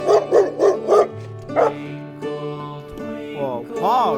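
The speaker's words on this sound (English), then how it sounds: "Dog." A dog barks in a quick series of four sharp barks, followed by a pause and then a few yelping, whining tones, close and loud.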